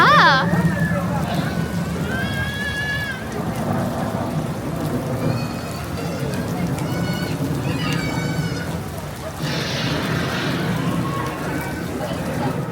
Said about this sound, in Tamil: இது ஒரிஜினல் மழை இல்லைங்க. மழை வர மாதிரி செட் பண்ணி வச்சுருக்காங்க.